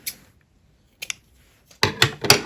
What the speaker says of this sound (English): I'm just going to fasten off this and grab my scissors